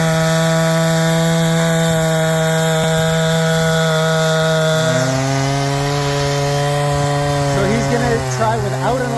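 A chainsaw rips freehand through a log for rough-sawn lumber, a loud steady engine whine that drops in pitch as the cut loads partway through, with no mill guiding it.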